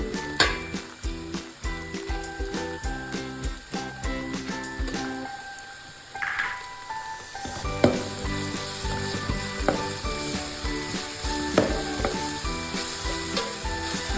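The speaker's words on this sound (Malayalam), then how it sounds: "ഇത് പകുതി വാട്ടായി നമ്മൾ ജിഞ്ചർ ഗാർലിക് പേസ്റ്റ് ചേർക്കുന്നു" Ginger garlic paste sizzles steadily in a frying pan of hot oil for Kerala-style fish mappas, with a loud continuous hiss, frequent clinks and scrapes of stirring, and a brief quieter lull midway.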